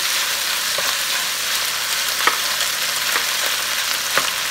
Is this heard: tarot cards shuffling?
no